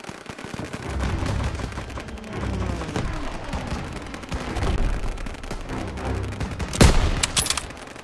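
Call of Duty WWII battle gunfire: rifle and machine-gun bursts rattle in continuous waves, building to a loud sharp crack near the end, with no speech.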